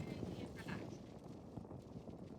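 Horse hooves cantering in a riding lesson, a steady run of soft clip-clop beats on an arena surface, moderately close and continuous throughout.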